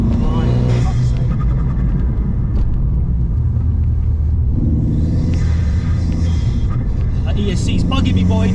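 Inside an Alfa Mito Cloverleaf or Abarth 500 Competizione, a small turbocharged engine drones loudly and climbs in pitch as the car accelerates, with road rumble underneath and voices in the cabin.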